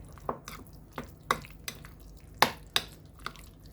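Homemade guacamole being mixed in a bowl after sliced cilantro is added, with a run of soft, irregular wet squelches and light scrapes spaced across the moment, close and fairly quiet, no voices.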